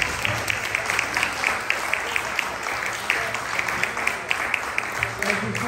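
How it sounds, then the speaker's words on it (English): A concert audience applauds the band, musicians and choir, a continuous wash of clapping with distinct sharper claps recurring throughout, while a voice speaks over it. "let's give them a great round of applause"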